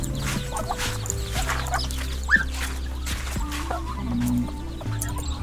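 Hens cluck and murmur in a rural Thai farmyard, soft calls scattered over a steady low hum, with one brief sharper squawk near the middle.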